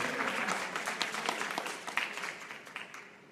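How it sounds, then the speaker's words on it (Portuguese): Church congregation clapping hands together in a quick, lively rhythm, moderately distant and fairly faint, fading slightly over a few seconds. "aplauda o Senhor com palmas bem alegres"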